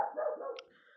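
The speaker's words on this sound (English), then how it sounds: "Also, sorry about my dog." A pet dog gives a single short bark, fairly close but soft, fading quickly into quiet.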